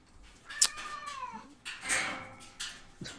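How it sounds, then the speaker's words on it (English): A tomcat with his claws caught on a radiator lets out a series of loud, drawn-out, complaining meows and yowls, several distinct cries close by with short pauses between them. "One of my cats got his claws stuck on the radiator and was voicing his displeasure at the predicament."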